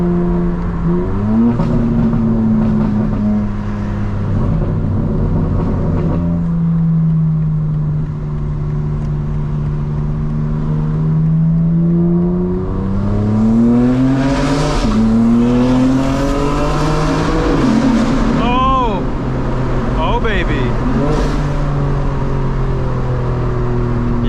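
A modified 2025 BMW M4 revs loudly while being driven, its engine note climbing and dropping through repeated upshifts and downshifts, with brief tire noise later on.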